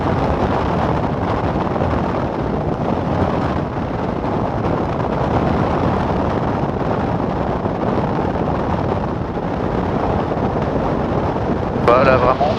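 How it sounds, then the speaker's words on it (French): Light aircraft engine powering up for a go-around on a grass strip with a headwind, a steady loud broadband drone holding throughout under wind noise on the microphone, with voices over it. "remise de gaz"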